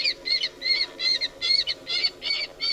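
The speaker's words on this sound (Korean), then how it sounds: "녹음기에서 나오는 소리는 괌뜸부기의 다양한 울음소리다." A series of about eight short, rhythmic Guam rail calls played from a recorder, each a burst of harsh high notes, repeating steadily with no talking.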